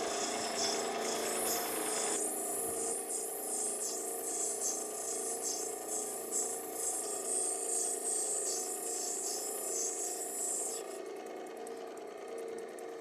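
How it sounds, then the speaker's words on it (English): A diamond-plated 600 grit wheel carving an Oregon sunstone gives a steady, close, high-pitched grinding whine that runs without a break for the whole stretch, with no voices. "This is a 600 grit wheel that's diamond plated, so it's still a pretty aggressive wheel."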